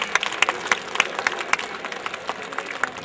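Scattered, fairly close handclaps from a modest crowd opening an HAL cultural program in Lucknow. The sharp claps come in an uneven but lively rhythm that thins toward the end.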